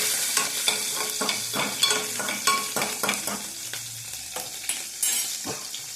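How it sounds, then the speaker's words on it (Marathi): Curry leaves and chillies sizzling in hot oil in a pan for Udupi-style peas upma, with a bright constant frying hiss broken by repeated scraping stirs of a spoon against the pan, close up and without talk. "कढीपत्ता घालायचा, मिरच्या घालायच्या, चांगले हलवून घ्यायचे."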